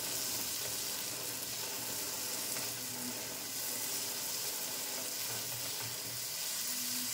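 Bottle gourd pieces stirred with turmeric in a frying pan, a soft continuous sizzle with scraping stir strokes repeating throughout, fairly quiet and without speech.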